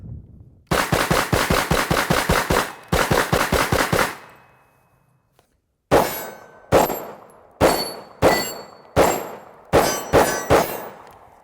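Hi-Point C9 pistol fired at steel targets: a fast string of shots with ringing metallic clangs, then after a short pause six more separate shots each followed by a steel ring, loud and close.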